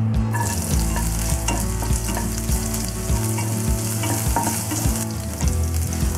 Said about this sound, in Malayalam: സൺഫ്ലവർ ഓയിൽ ചൂടായി കഴിയുമ്പോൾ ചെറുതായിട്ട് ചോപ്പ് ചെയ്ത് വെച്ചേക്കുന്ന ഇഞ്ചി